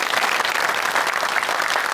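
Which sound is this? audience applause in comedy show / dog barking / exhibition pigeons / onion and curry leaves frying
audience applause in comedy show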